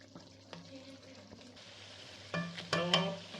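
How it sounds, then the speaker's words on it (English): Shinwari meat frying in a pan over raised heat as the water cooks off, with a steady sizzle and stirring clatter that grows louder and more crackling toward the end. "at this stage we will increase our heat and we will fry it little bit again"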